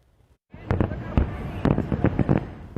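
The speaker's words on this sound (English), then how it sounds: "For some people, fireworks may be the first thing they associate with July 4th." Fireworks bursting on July 4th, a rapid series of sharp, loud bangs and crackles after a brief silence, with a busy rumbling background between the blasts.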